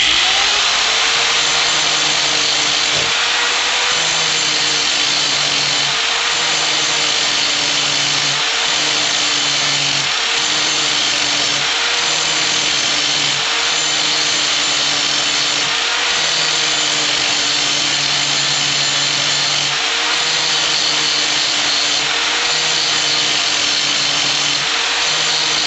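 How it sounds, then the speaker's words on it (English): A diamond wheel sharpens the teeth of a saw held in a vise. It grinds loudly and continuously with a rhythmic pulse as it moves from tooth to tooth. There is no speech. "Now we take the diamond wheel and we hold it parallel to the ground, parallel to the vise"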